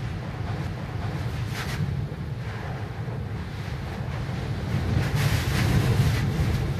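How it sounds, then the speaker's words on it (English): Hurricane Irma's outer eyewall lashing the Florida Keys with heavy rainfall and constant roaring wind, a steady dense wash of rain and gusts that swells louder toward the end, with no talk. "Real heavy rainfall. It's almost a wall of water out there."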